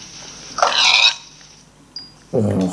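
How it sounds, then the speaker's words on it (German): Two short grunting bursts from a Minecraft pig, close by, separated by a quiet gap with a faint click, the second grunt lower and fuller. "Och, wie das grunzt."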